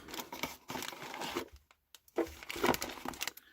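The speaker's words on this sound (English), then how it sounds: "Pardon the noise, I know it crinkles on the microphone." A small wax paper bag crinkles and rustles close to the microphone in bursts, pausing briefly before another round of handling.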